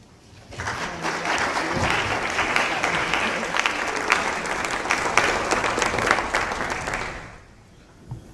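Audience applause welcoming speaker Dr. Claire Gaudiani, swelling quickly into sustained, even clapping from a large crowd for several seconds before tapering off into quiet.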